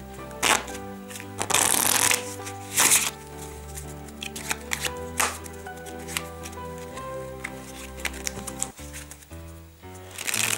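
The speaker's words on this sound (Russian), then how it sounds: "Тасуются они тоже хорошо." Bicycle Anne Stokes Steampunk playing cards shuffled in quick repeated riffles, each burst a loud crisp flutter of card edges followed by a brief softer bridge, over a steady tonal background.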